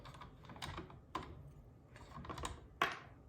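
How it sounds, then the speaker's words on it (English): A paper trimmer scores thick white card stock, making faint, close scratchy clicks and brief scraping strokes at irregular intervals with no talk. "Here's my trimmer."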